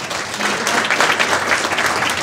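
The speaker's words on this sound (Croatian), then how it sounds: "naravno, jednim aplauzom" Audience at a media panel discussion applauding the panelists, a dense, steady burst of clapping from a crowd in a hall, loud and sustained throughout.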